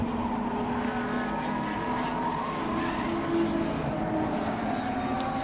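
Historic touring cars, Rover SD1s, a Jaguar and Ford Capris, racing at Donington Park, a continuous engine drone carried from a distance with a brief swell partway through, steady and moderately faint.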